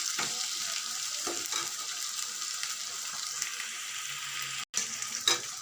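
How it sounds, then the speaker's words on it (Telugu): Masala spices fry in hot oil in a pan for a prawn curry, a dense continuous sizzle with a few stirring scrapes and a brief break near the end, with no talking. "మసాలా కొంచెం ఆయిల్లో బాగా వేస్తే బాగుంటుందండి."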